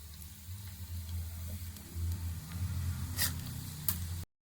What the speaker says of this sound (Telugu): ఇప్పుడు ఈ నూనెలో తాలింపు వేసేసుకుందాము.